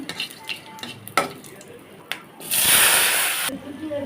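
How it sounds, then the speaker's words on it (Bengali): Short utensil clinks and scrapes, then a loud burst of Bengali five-spice and dried chili hitting hot oil in a wok that sizzles for about a second before cutting off. "কড়াইতে আমি তেল দিয়ে তার ভিতরে পাঁচফোড়ন দিয়ে দিলাম"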